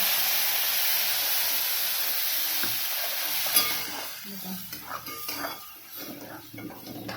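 Milk poured onto roasted semolina in a hot pan for mango sheera: a loud hiss and sizzle that fades after a few seconds into softer bubbling, with stirring and scraping scattered throughout.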